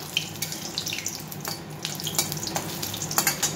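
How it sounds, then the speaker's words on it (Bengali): Bori lentil dumplings fry in mustard oil with a continuous close, crackling sizzle, and occasional sharper pops and spatters sound throughout, with no talking. "আর এখানে আমি বড়িটা একটু ভেজে নিচ্ছি।"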